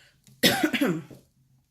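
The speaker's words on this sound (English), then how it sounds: "So I still have a little bit of a cough" A single close, loud cough, a harsh burst breaking into a couple of rough follow-up hacks, then quiet.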